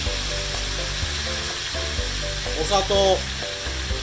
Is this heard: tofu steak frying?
yes